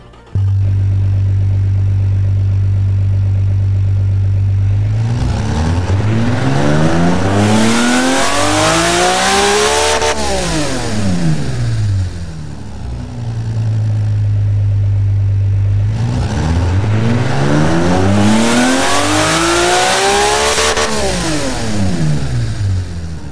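An inline-six car engine in the game Automation idles, then revs up high and drops back down, twice in a row, loud and continuous with a smooth multi-cylinder tone.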